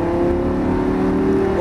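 Lamborghini Gallardo accelerating on a wet race circuit in the rain, its engine note a steady, loud, sustained drone with a rising tone through the short burst.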